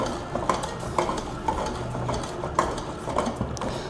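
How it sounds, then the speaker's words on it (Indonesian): Pineapple cake batter is stirred at medium speed into a smooth mix, giving a steady swishing texture with regular scraping knocks about twice a second, close and fairly loud. "Kita aduk saja dengan kecepatan sedang sampai rata."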